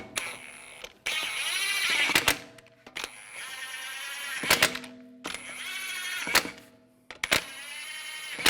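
Lug bolts being fitted and spun in by hand on a 2004-2010 BMW X3 front wheel, with repeated mechanical whirring runs and sharp metallic clicks in between, close and without talk.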